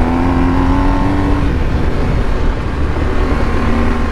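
BMW GSA 1250 motorcycle accelerating on a snowy forest fire road with traction control on, a loud, steady engine drone with rising tones, mixed with wind rush and crunching ground noise.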